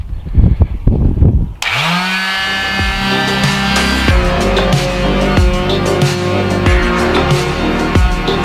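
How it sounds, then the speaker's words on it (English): A power sander works on the rear bulkhead of a VW Rabbit Pickup, moving from coarse grit to fine. A short thumping start gives way to a loud, steady whine, with rhythmic dips as the pad moves across the panel. "now we've got the sander, and now we're about to go to work."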